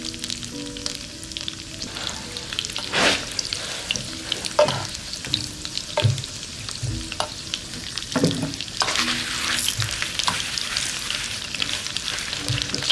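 Chinese dumplings frying in oil in a pan, a continuous sizzle punctuated by occasional sharp pops and spatula clicks, close and moderately loud with no talking.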